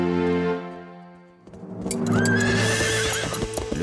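Horses neigh loudly and close, a long whinny rising over the sound of hooves clopping on the ground.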